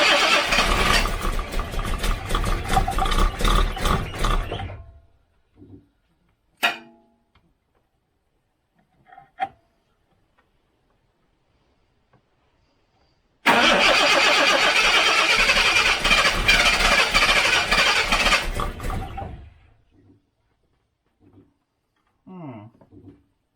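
A Jaguar XJC engine under rebuild cranks and roars to life with throttle, running loud for about five seconds before dying. A few clanks follow, then a second start bursts into a strong revving run for six seconds before cutting out.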